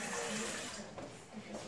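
Water poured into couscous being prepared by hand at home, a steady close pouring and trickling wash that fills the short moment without pause.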